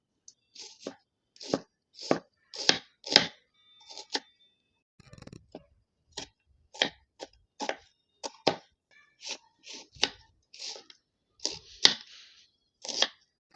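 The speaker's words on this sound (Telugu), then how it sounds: "ఇప్పుడు ఉల్లిపాయలను కట్ చేసుకుందాం" A knife chops onions on a board for pakoda, giving a steady run of sharp, close, evenly spaced strikes with short pauses between bursts and no talking.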